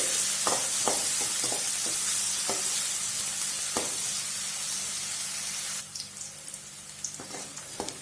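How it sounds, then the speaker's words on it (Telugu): Finely chopped onions fry in hot oil with a steady close sizzle, broken by repeated clinks and scrapes of stirring before the frying quiets toward the end. "ఆయిల్ కొద్దిగా హీట్ ఎక్కిన తర్వాత ఇలా సన్నగా తరిగిన ఆనియన్ను వేసుకోండి వేసుకొని ఒక నిమిషం పాటు బాగా వేపుకుందామండి"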